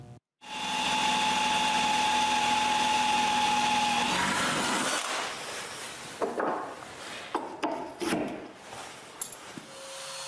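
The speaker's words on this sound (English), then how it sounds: "I drill a hole for the locking pin" A power drill bores a hole for a locking pin in a wooden folding shelf, a loud steady whine for about four seconds that then breaks into uneven bursts, clatters and knocks of the workpiece being handled.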